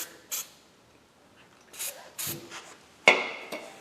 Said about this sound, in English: Clean them up with the wire brush. Get all that old grease off of there.